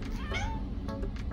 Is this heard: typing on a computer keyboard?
no